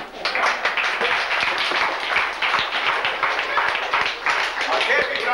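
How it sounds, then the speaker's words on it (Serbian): An audience on a 2001 Serbian-language television show applauds steadily, a dense, continuous wash of clapping close by with people talking over it. "E, aplauz za Cetar."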